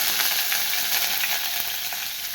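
Onion dropped into hot oil in a home kitchen, a steady, close, hissing sizzle that holds evenly throughout, with no voices.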